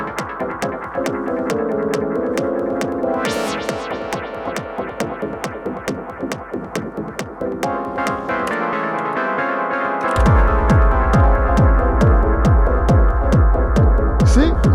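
Techno kick drum doubled in a quick repeating pattern over a busy synth loop, the pulsing beat growing heavier and deeper near the end.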